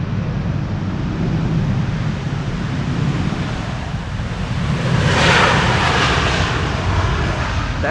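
An airliner lands on a windy day on Polderbaan runway 18R at Amsterdam Schiphol and its thrust reversers roar into a steady, loud rushing drone. The drone swells briefly louder midway under gusty wind noise.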